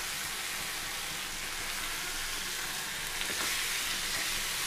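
Chopped tomato frying in hot oil in a pan, a steady, even sizzle that stays faint and continuous throughout with no talking.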